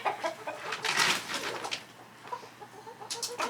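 Chickens clucking and chattering in a chicken run spread with aspen shavings and straw, several birds calling in short irregular bursts at close range with no talk.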